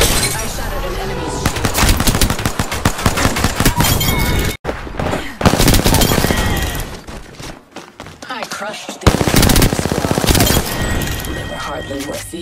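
Dense, loud gunfire from the battle royale shooter Apex Legends arrives in rapid bursts and volleys that keep going with short pauses, mixed with game voice lines.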